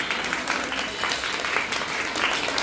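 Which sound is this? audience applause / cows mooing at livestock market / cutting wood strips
audience applause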